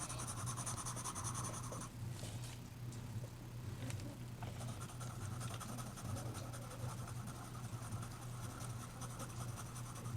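A chalk pencil drawing a portrait on paper makes a steady, close, soft scratching that runs throughout, with no voices.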